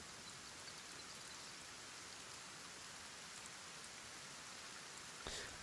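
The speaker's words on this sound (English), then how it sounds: "and it's raining" Rain falls in Kenshi as a dense, even hiss of steady downpour that holds constant throughout, with a faint brief click near the end.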